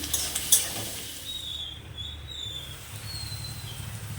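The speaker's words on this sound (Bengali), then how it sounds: "তো দেখো তেল যে একদম খুব বেশি তা নয় পেঁয়াজটা এরকম ভাজা হয়ে গেছে" Onions frying in a modest amount of oil in a pan for a Bengali meat curry, a soft, steady sizzle running throughout with a few light clinks of a utensil near the start.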